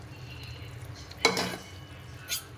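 Crushed vegetables for pav bhaji stirred into hot oil in a pan, a low sizzle under a sudden clatter of the spoon scraping and knocking the pan, then a second short scrape.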